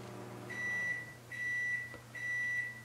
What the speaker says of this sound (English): And there the microwave turned off.